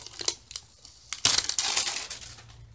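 Plastic packaging crackles and tears as it is cut away from a small 6x4 photo frame, with a few sharp snips and clicks followed by a louder burst of crinkling close up.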